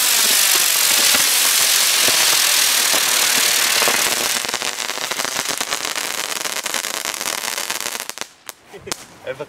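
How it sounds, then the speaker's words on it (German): A B-Böller firecracker from Funke sets off a dense run of crackling bangs on New Year's Eve. The loud crackle lasts several seconds, thins out toward the end and stops abruptly. "So, jetzt ein B-Böller von Funke."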